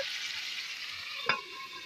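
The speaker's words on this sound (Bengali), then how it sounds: "মশলা বাটা জলটা দিয়ে একটু নেড়ে চেড়ে নেড়ে চেড়ে ভেজে নেব" Meat frying in a pan with ground spice paste and a little water, a steady soft sizzle under a brief stirring scrape, close and moderately loud with no talk.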